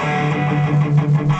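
Electric guitar power chords from a Christmas song riff, played slowly as a continuous driving strum with steady low-mid chord tones and a loud, sustained texture throughout.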